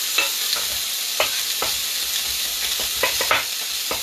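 Chicken sizzles and fries steadily in a pan for a chow mein, with several sharp scraping and stirring clicks of a utensil against the pan bottom cutting through the constant hiss.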